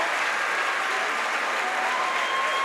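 Sustained applause from a crowd at a women's college basketball game, an NCAA Division II regional final, steady and full for the whole stretch with no break.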